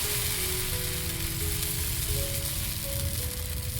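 Coconut dosa batter sizzles steadily on a hot pan, a continuous close hiss with a low hum underneath and no talk.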